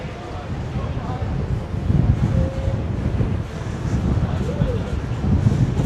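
Strong wind buffets the microphone on a hilltop at the Malahat SkyWalk, a constant loud rumbling roar that swells and gusts throughout with no break.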